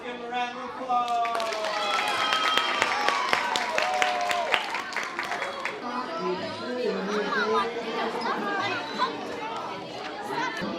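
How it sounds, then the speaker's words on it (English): Applause for a student named in second place at an awards moment, a dense wash of clapping mixed with crowd chatter and children's voices, moderately loud and steady throughout with cheers and talk over it. "Let's give him a round of applause."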